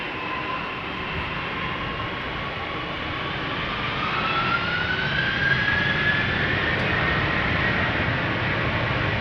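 Airliner engines spool up to takeoff thrust on departure at Amsterdam Schiphol, a steady, loud broadband roar with a rising whine that climbs and grows slightly louder, with no voices.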